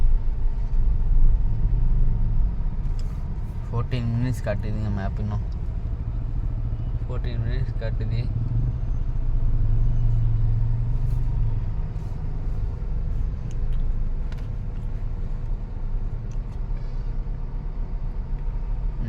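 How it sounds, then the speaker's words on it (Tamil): Heavy traffic on Hosur road rumbles continuously, with low engine drone from idling and creeping cars and vehicles close by, under someone talking. "ஃபுல்லாக டிராஃபிக் தான்."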